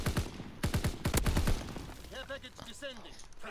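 Rapid bursts of gunfire in a shooter video game, a quick cluster of loud shots early on, then quieter talk carrying over the rest.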